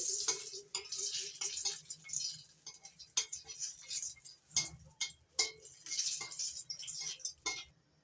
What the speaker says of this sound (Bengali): তেল গরম হয়ে গেছে এবার ফোড়নের জন্য দিচ্ছি তেজপাতা শুকনো লঙ্কা শুকনো লঙ্কাটা একটু ভেজে নিচ্ছি